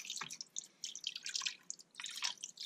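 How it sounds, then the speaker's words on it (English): About a cup of liquid poured over chicken pieces in an electric pressure cooker pot, heard as quiet, splashy dribbling and pattering bursts that come and go, with no voices. "Just dumped 1 cup of liquid goodness in there"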